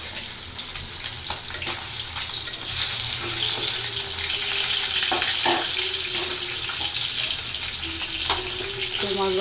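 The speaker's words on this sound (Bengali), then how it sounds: "তো মশলাটা ভালো করে কষায় নিই" A spice paste of turmeric, chili and coriander fries loudly in a pan with a constant, close hiss and occasional sharper pops.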